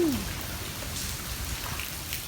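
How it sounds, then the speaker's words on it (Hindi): Steady rain falls in Singapore, a dense, continuous patter close by that fills the whole stretch without pause. "ये सारी बारिश हो रही है।"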